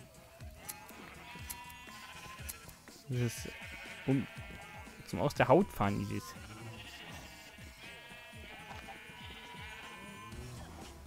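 Sheep in the video game Minecraft bleat repeatedly with short wavering cries, the loudest cluster in the middle, while a person talks in German over them.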